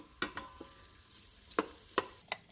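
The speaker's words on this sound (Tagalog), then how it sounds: "Haluin lang natin" Beef mechado is stirred in an Instant Pot, producing a handful of soft, scattered scrapes and knocks of a spoon against the pot with faint bubbling between them, quiet and close.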